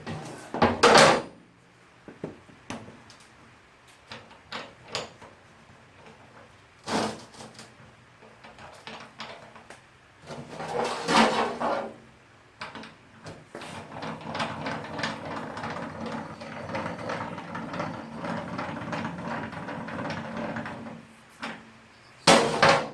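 The raised rear wheel of a Yamaha TT250R, in first gear, is rocked by hand, giving sparse metallic clunks and knocks from the transmission. Quiet gaps separate them, followed by a longer stretch of light rattling and a final pair of knocks.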